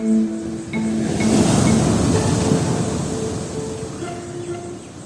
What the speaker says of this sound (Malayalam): തിരമാല അടിക്കുന്ന സൗണ്ടാണ് കേട്ടത്.